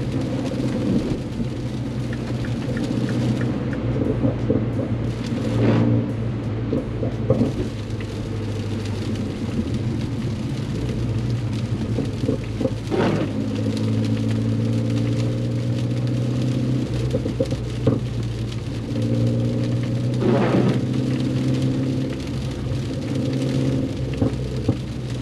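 Cabin drone of a Mini Cooper S on a snowy road, steady engine hum and tire rumble heading onto a ramp, with a few brief knocks and swells in pitch as the car shifts, continuous and close.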